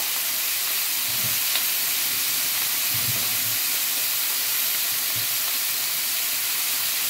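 Orata fish cooking in a frying pan with potatoes: a steady, loud sizzling hiss that runs throughout, with a few faint low knocks and no talking.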